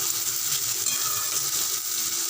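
Onion, garlic and ginger frying in a pan, the base for a silver carp fish curry, giving a loud, steady, close sizzle with no voices.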